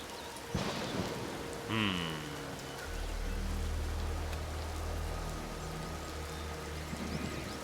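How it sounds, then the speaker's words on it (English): Steady rain pours in the survival game Empyrion Galactic Survival, a dense, continuous hiss lasting throughout, with a brief higher tone early on and a low rumble joining in the second half. "Okay, now we're just standing out in the rain."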